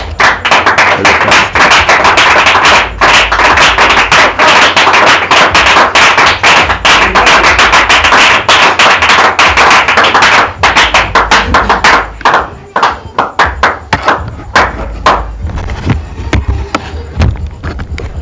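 A church congregation at a tabernacle evangelism service in Moanda claps loudly and steadily, a dense continuous wall of hand claps that thins into scattered sharp claps toward the end, with no talk over it.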